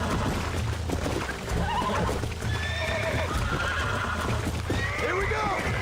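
Horse whinnies and clip-clopping hooves from the video game Red Dead Redemption, with several rising and falling neighs over steady hoofbeats and game noise while someone talks excitedly.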